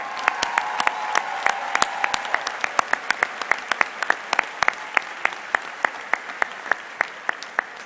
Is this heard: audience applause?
yes